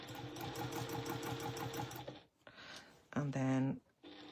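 A sewing machine stitching a quilted wall hanging: a fast, even run of needle thumps for about two seconds, then a pause and a short second burst, heard up close with a voice talking quietly.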